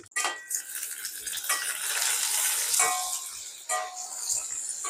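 A spoon stirs stuffed brinjal masala in a pan, giving light scraping and clinking with a soft sizzle underneath. The stirring comes up close in short repeated bursts.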